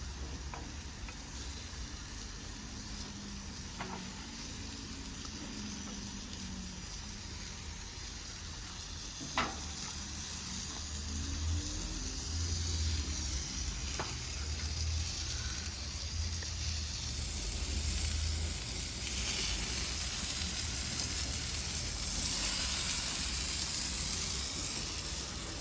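Onions caramelizing in a pan sizzle with a steady, soft hiss over a low background rumble, continuous and fairly faint, with an occasional stir or tap and no talking.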